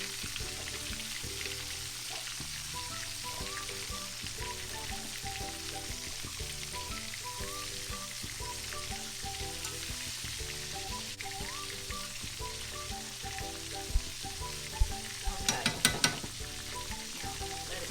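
Pork chops fry in hot oil in a pot, a steady, even sizzle that runs unbroken and close, with a few sharp utensil clicks near the end and no one talking.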